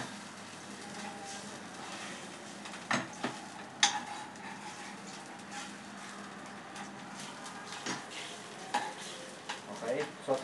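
Squid adobo with soy sauce and vinegar cooks in a pan, a steady sizzle and bubble with occasional scrapes and clinks of a utensil stirring against the pan.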